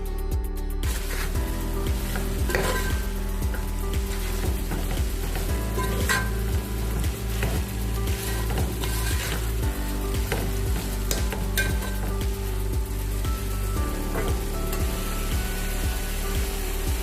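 Chopped tomatoes frying in a pan of simple Alappuzha-style chicken curry, a continuous loud sizzle with repeated scraping stirs and clicks of a utensil against the pan, no talking.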